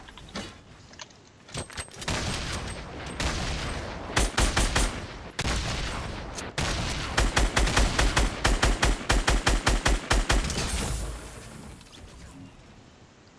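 Rifle fire in the video game Fortnite: loud, rapid volleys of gunshots, first dense and continuous, then a steady string of evenly spaced shots, with no talk over it.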